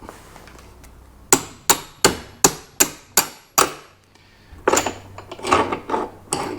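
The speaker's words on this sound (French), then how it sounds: "Ensuite, avec un marteau et une tige," Hammer striking a metal rod to drive out the central axle of a Gotway MSX electric unicycle wheel: seven sharp, evenly spaced metallic blows, then a pause and a rougher cluster of knocks, loud and close.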